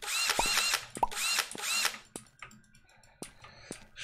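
A drill in the video game Minetest gives a few sharp mechanical whirring bursts in quick succession, close and fairly loud, followed by fainter clicks.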